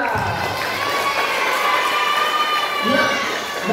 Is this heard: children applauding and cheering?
yes